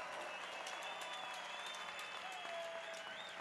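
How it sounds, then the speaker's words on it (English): Applause and cheering from an arena crowd salute two fighters after a cage fight, a faint, continuous roar of clapping with a few whistles rising above it. "please, big round of applause for both of these warriors"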